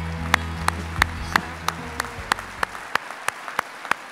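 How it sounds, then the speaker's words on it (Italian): Applause in a hall for police officers who saved 73 people, sounding as distinct, evenly spaced claps in a steady rhythm, roughly three per second, with low droning tones beneath during the first half. "che li salutiamo con un caloroso applauso"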